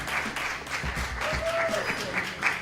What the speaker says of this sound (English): we're going to keep that round of applause going until she reaches the microphone